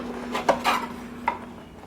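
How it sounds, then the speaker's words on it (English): A drywall spatula pries wooden window casing loose from around a picture window, giving two or three short, close scraping and knocking clicks over a steady background hum. "Pop it out with a spatula."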